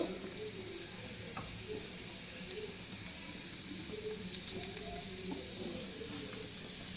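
Potatoes frying in a pan for Bengali aloo bharta, browning until deep red, give a steady soft sizzle with faint crackles and occasional light clinks of a utensil, close and continuous throughout.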